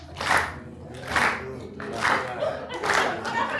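A crowd claps along to a drum rhythm led by drummer Shirazette Tinnin at The Wright, four loud group claps landing in an even pulse with quieter sound between them.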